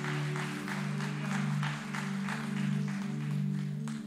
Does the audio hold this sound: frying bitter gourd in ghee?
no